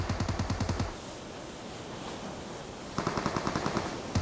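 Automatic gunfire from the PUBG Mobile battle game, two loud rapid bursts of shots separated by a pause of low background noise, with no talking over them.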